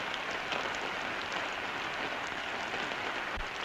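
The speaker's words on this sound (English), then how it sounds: "It's still raining." Steady rain falls in a constant soft hiss, with no voices.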